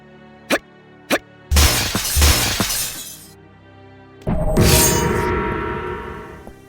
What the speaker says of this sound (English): Break the windows by firing the Zero Cannon